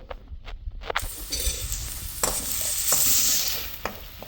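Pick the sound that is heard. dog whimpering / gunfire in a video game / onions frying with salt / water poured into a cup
onions frying with salt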